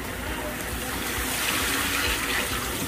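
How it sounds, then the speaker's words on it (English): Seasoning water pours into a pot of curry crab with crab fat in a steady, broad splashing stream that holds even for a few seconds, close and moderately loud. "And add in all the seasoning water."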